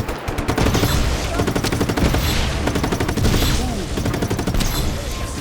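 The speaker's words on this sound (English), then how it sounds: "Let me show you how easy it is to shoot these control boxes." Automatic gunfire in the video game Just Cause 3, aimed at control boxes: a loud, sustained rapid stream of shots with dense, rattling bursts that barely pause, close and dominant from start to finish.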